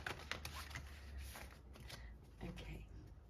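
Tarot cards are shuffled by hand in a steady run of close, crisp riffling and flicking, with a low hum underneath.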